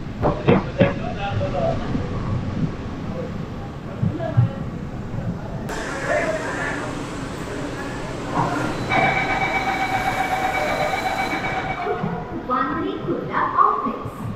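Rumbling Mumbai Metro Line 3 train noise at the Aarey depot washing area, with a rising electric whine and wheel hiss nearby, while people talk over it.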